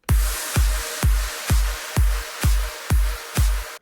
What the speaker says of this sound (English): Altogether, the drums and effects sound like this.